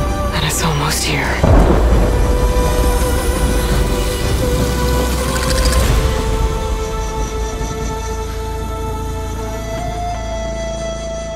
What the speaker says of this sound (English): Said a storm was coming.